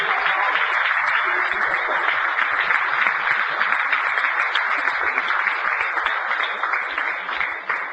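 Sustained applause and acclamation from a church congregation greeting pastor Patrick, dense steady clapping at constant loudness for the whole stretch, easing slightly at the end.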